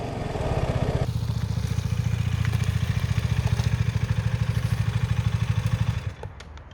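KTM RC125 motorcycle engine running up close, a steady, loud, rapid single-cylinder pulse that holds for several seconds before dropping away near the end.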